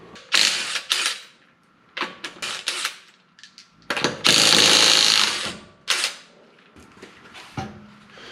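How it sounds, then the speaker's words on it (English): Ratchet wrench removing the five wheel lug nuts from a Lincoln MKZ: loud, close bursts of rapid ratcheting clicks, with brief pauses between them and one long sustained run in the middle. "first thing we got to do is pull off the 5 lug nuts."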